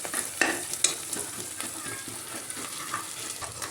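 Crushed ginger-garlic paste fries beside onion in a pan, sizzling close up under scraping stirring strokes and a few sharp clinks, steady and without speech.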